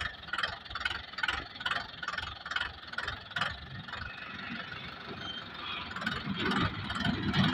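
A YTO EMF 604 60 HP tractor engine running in low gear in 2x4 during a slow race, a quiet, rhythmic chugging throb with regular pulses that later blends into a steadier, rising rumble.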